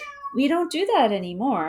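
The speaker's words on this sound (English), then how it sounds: "I don't know if you can hear him meowing." A house cat meows loudly and close by in drawn-out, wavering cries, overlapping a person who is speaking at the same moment.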